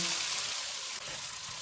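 Onion, ginger and garlic paste frying over medium heat, a soft continuous sizzle with a brief dip partway, fairly quiet and close.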